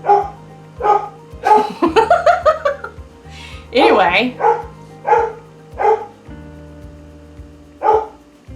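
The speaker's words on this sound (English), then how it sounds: "Anybody want a barking dog?" A dog barks repeatedly in short, loud bursts, a quick flurry of yips in the middle, while a person speaks briefly and a low hum runs underneath.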